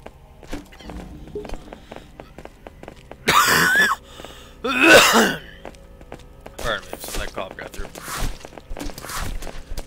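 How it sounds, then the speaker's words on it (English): Several people coughing indoors in an apartment, two loud broad coughing bursts in the middle among softer thumps and a few shorter coughs, close by, with some talk around them. "we're all coughing"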